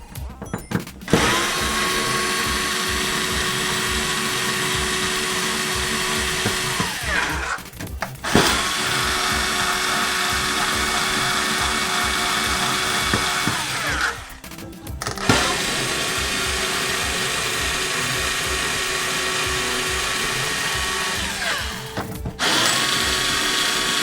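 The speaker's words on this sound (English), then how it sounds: "So we need to undo these 4 screws." A power screwdriver undoes screws on a Sega Naomi arcade board. Three long, loud, steady motor whines of about seven seconds each are separated by short pauses with small mechanical clicks, close and without speech.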